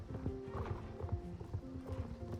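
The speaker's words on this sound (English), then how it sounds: "Oh, it's a Tennessee Walker." Hooves of a Tennessee Walker horse in the video game Star Stable clip-clop in a quick, even rhythm, faint and close, with a brief whinny-like tone mixed in.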